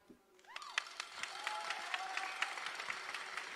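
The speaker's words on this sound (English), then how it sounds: "Round of applause." Applause builds at a beauty pageant final, starting quiet and swelling into steady crowd clapping with distinct sharp claps. A brief tonal swoop sounds near the start.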